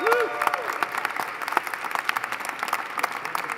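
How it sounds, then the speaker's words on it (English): A room of guests at a national dinner gala applauds, a steady patter of many hands clapping at moderate distance, with a brief voice at the start. "Give them a round of applause"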